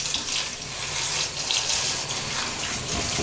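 Lukewarm water runs steadily from a shower hose, a continuous close hiss and splash with slight surges while cleaning a tuba.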